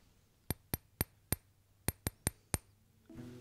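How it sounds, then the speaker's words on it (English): Tapping on a glass eyeglass lens held close to the mic gives eight sharp, bright clicks in an uneven rhythm, clean and isolated against a quiet background, with a soft rustle at the end. "when you tap it, it has a higher resonant frequency, and so you'll get sort of a click, click, click sound"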